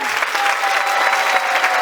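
Audience applause at the close of Lal Govind Prabhu's Bhagwat Katha in Mauritius: a dense, steady wash of many hands clapping together, sustained and fairly loud throughout with no voices on top.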